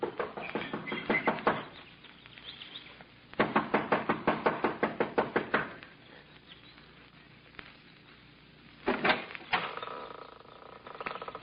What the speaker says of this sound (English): She knocks impatiently, looking about anxiously.